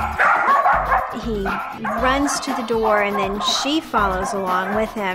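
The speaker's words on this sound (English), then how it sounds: "And they both bark and bark." Two dachshunds bark excitedly at the front door of a house after the doorbell rings, a steady run of close, loud barks mixed with a voice talking over them.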